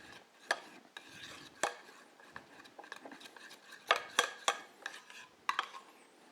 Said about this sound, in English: Now we add our Shishimi Togarashi and our sesame seed. Mix this.